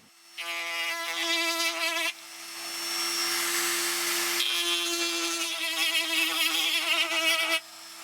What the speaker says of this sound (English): So this is just a basic Dremel tool that I'm using, and it's a pretty coarse tip that I'm using.